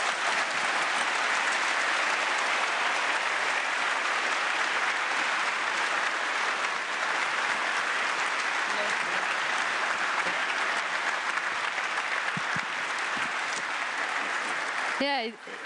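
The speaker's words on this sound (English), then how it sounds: "it deserves a round of applause indeed" Sustained audience applause after a speech at an EU leaders meeting in Antwerp, dense and loud hand clapping from a large room filling the whole stretch, fading slightly at the very end.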